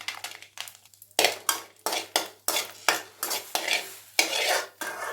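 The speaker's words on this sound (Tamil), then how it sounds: "இப்போ வரமிளகாயை வறுத்து எடுத்துக்கிட்டாச்சு" Dried red chilies roast in a pan while a utensil stirs them, giving a series of loud, close scraping and rattling strokes in an irregular rhythm over a faint sizzle, with no voices.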